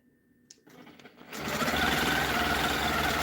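A sewing machine stitches a continuous quilt border, starting after a quiet, faintly rustling moment and then running as a loud, steady, close mechanical whir through to the end.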